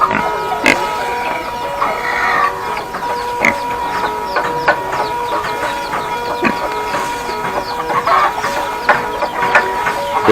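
Chickens clucking at a hill village farm kept alongside pigs, many short overlapping clucks and calls scattered continuously through a busy, steady farmyard background.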